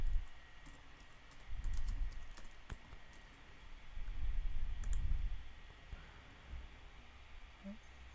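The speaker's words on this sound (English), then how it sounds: "so I would go and just type in Kylie Jenner" Computer keyboard typing comes in short bursts of light tapping, with a few sharp mouse-like clicks in between, quiet and close.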